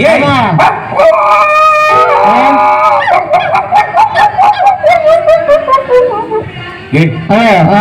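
In a Tamil leather puppet show, a dog barks, yips and howls in quick repeated calls, loud and close, with performers talking. A human voice probably imitates the dog.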